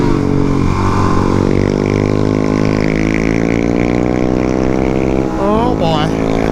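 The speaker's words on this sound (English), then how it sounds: "MRD exhaust up there sounding good" Suzuki DRZ400SM single-cylinder motorcycle fitted with an MRD exhaust, engine droning steadily and close throughout a group ride, its pitch shifting gradually with throttle, with a rider talking over it near the end.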